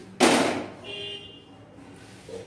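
Spices for a red chilli and tamarind pickle tempering drop into hot oil with a sudden loud burst of crackling that fades into a softer, lingering sputter.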